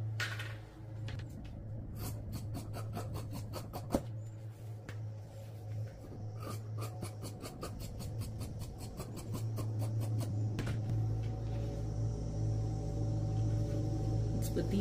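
Cotton fabric being cut with scissors for a gharara, a long run of rapid, regular snipping strokes close by, followed by a steady low hum as the cutting stops.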